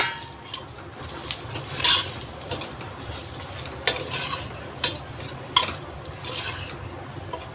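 Samba rava semolina is roasted in oil in a pan and stirred steadily, making a continuous soft scraping and rustling over a gentle sizzle, with occasional sharper utensil clinks.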